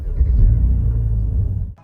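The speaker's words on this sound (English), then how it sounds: "I'm gonna start the engine now" A Mercedes-AMG GLC43 engine turns over in normal mode and settles into a loud, deep rumbling idle that holds steady, then cuts off abruptly near the end.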